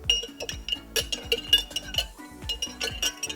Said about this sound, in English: I'm going to add the sugar and then just give it a mix.